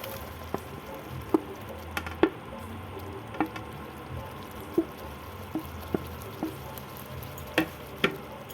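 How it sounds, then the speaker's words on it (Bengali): Soaked paneer goes into a bubbling masala for shahi paneer and is stirred. A low continuous sizzle is punctuated by regular sharp clicks and taps of the spoon against the pan, with no voices. "এবার দিয়ে দিলাম ভিজে রাখা পনিরগুলো।"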